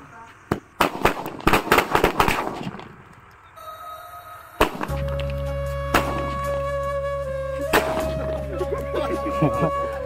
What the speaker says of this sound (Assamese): ফটকা এখিনি ফুটোৱাত মানে জুই লগাই দিছে, আৰম্ভ কৰিলে ফুটিবলৈ